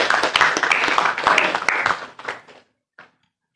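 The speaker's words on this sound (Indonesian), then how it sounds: "Kita berikan tepuk tangan." Audience applause at a university ceremony where Quran-memorization students receive donated Qurans. Dense, close clapping runs steadily for about two seconds, then thins out and fades to near silence.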